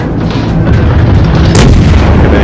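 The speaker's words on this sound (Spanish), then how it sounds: "Están disparándome." Heavy naval cannon fire in World of Warships Blitz booms through a loud, rumbling background, with one sharp blast standing out midway.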